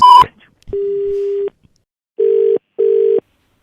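After a radio prank phone call is hung up, a loud, close disconnect tone plays: one long steady beep, then two shorter beeps separated by silence, with no talk over it.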